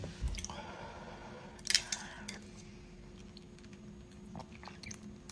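Rice pudding being eaten up close, with quiet wet chewing and a couple of soft bites and squishy mouth sounds against a faint steady background hum.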